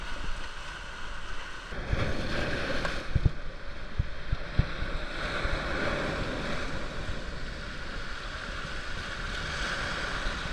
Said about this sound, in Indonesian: Udah mulai terbiasa ada ombak di sini. Tuh, ombaknya kencang banget.